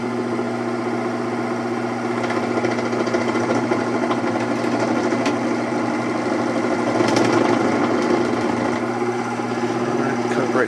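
A small Proxxon hobby lathe runs steadily with a high-pitched mechanical whine and hum as it cuts through a workpiece, a continuous close sound that swells slightly near the end of the cut.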